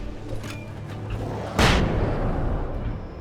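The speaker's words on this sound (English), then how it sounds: "You guys get the flashbang." A flashbang grenade going off in the video game Alan Wake: one loud, sudden blast partway through with a rumbling tail that fades slowly over the game's background ambience.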